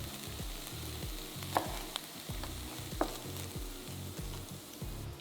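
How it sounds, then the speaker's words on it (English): Onions and peppers sauté in olive oil with a steady sizzle and soft crackle, broken by a few sharp utensil clicks and scrapes against the pan. "while I'm sauteing the onions and the peppers"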